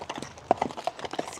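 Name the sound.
horse hooves clip-clopping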